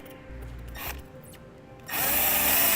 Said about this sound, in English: we'll do that using our provided self-tapping screw